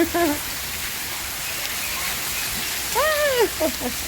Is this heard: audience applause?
no